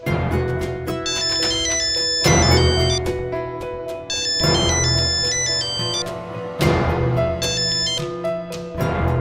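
A phone ringtone plays loudly and close while a call goes through, its bright melodic phrase repeating about every two seconds, with no talk.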